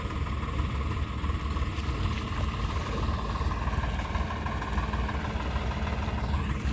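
A tractor engine idles with a steady low rumble and vibration, constant throughout, with no voices.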